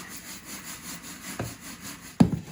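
Worm bin bedding from a red wiggler grow-out bin is rubbed by hand through a 1/8 inch screen, giving a steady gritty scraping texture with two sharper scuffs near the end.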